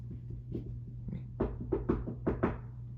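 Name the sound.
soft knock on a dressing room door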